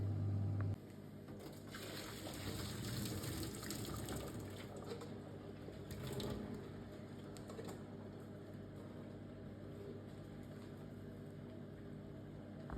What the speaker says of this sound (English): So I just strained off the potatoes there, poured all the water off.